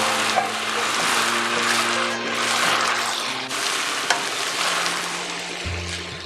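Orange zest and rice are stirred together in a pan for sweet rice, giving a soft, continuous sizzle with light scraping and stirring scuffs close by, with no talking.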